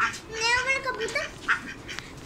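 Pet ducks quack in a short run of nasal, close calls, mixed with a voice talking nearby.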